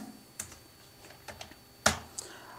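Sparse keystrokes on a computer keyboard as a query is typed: a handful of quiet, close clicks at uneven intervals, with one sharper, louder tap near the end.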